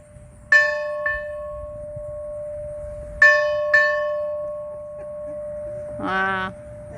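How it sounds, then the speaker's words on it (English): A single bell in a rebuilt tower rings out in pairs of clear, sustained strikes, two strokes then two more a few seconds apart, followed by a brief voice. "Here's the bell."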